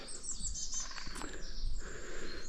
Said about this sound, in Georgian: ჩიტები ეგრევე ჭიკჭიკებენ,